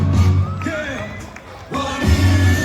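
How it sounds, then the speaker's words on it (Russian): An audience at an anniversary concert of the Ansar ensemble cheers loudly, with whoops and shouting voices rising and falling over a crowd roar. The noise dips briefly mid-way before surging again. "Аплодисменты, друзья."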